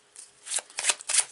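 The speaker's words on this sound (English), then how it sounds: "I've mixed up the cards together" Tarot cards, lighter major arcana mixed with the rest, shuffled by hand in a few quick riffling bursts, close and clear with no talking.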